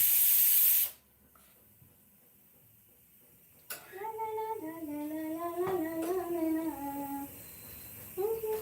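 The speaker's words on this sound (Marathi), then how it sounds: "कुकरचा पण राग येतोय तुला बघून. मेला शिट्टी मारतोय." A pressure cooker whistle lets out a loud hiss of steam, then a rising and falling whistle that holds for a few seconds and starts again near the end, heard close up indoors.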